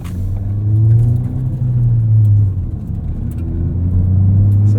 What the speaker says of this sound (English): So this is a catback exhaust, a titanium one at that